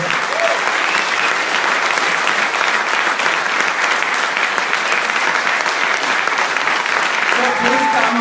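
At a makeathon project presentation, a crowd bursts into loud, dense, continuous applause that holds steady for the whole stretch, with faint voices mixed in near the end.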